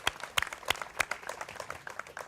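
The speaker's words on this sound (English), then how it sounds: "Let's give these guys a round of applause." Audience applause at a Lake Sammamish kokanee salmon release event, a small crowd clapping outdoors with a few sharp nearby claps over a thinner, uneven patter that tapers off.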